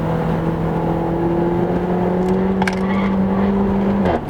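A Renault Megane 280 RS drives hard in third gear through a corner, its engine droning steadily from inside the cabin, a brief tyre squeal or rattle near the end, with no talking.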